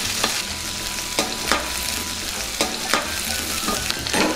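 Onions and tempering spices fry in a pan for a Telugu onion and chana dal curry, with a steady sizzle broken by repeated scraping stirs of a spoon against the pan.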